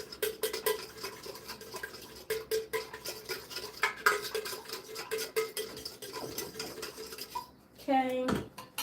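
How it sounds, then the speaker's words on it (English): Repeated light clinks and taps as a straw stirs a salty, lemony mixture at the bottom of a container, an uneven rhythmic patter, with a louder splashy rush near the end. "I take my straw and I just mix at the bottom"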